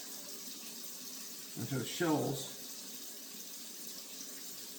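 Cold tap water runs steadily while shrimp are rinsed and peeled for a seafood stock, a soft continuous hiss with someone talking over it.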